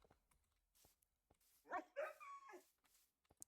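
Dogs in the Minecraft video game bark a few times in a short burst, two quick yelps followed by a slightly longer bark, faint and close, with quiet gaps before and after.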